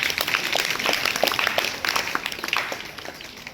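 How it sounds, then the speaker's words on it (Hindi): A classroom of government school students claps for classmates, many quick uneven claps close by, rising and easing over a few seconds before fading. "इनके लिए सब ताली बजाओ एक बार"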